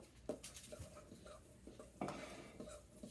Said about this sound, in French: Dans le bol, dans le même bol. Et je vais mélanger.